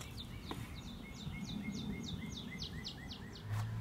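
Birds chirp outdoors in a quick regular run of high notes, faint and somewhat distant above a constant background hiss, with a brief low rumble near the end.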